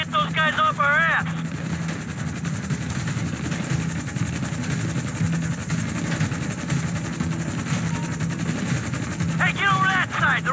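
Helicopter in GTA 5, a steady low rotor and engine drone running throughout the scene, with short bursts of talk over it near the start and end.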